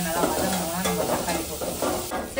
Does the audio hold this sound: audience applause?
no